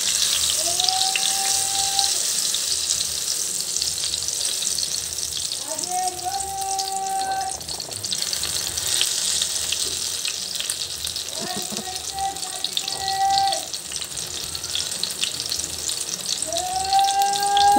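Eggplant omelette (tortang talong) frying in hot oil, a bright steady crackling sizzle that runs throughout, with scattered clinks and brief tonal beeps over it.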